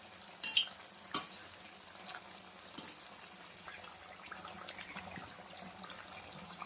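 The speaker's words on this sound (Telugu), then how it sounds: "ఇవైతే ఈవెన్గా మంచిగా కాలుతున్నాయండి" Raw banana fritters (bajji) frying in hot oil over a medium-to-high flame: a steady, close sizzle with scattered sharp pops and a few utensil clinks near the start.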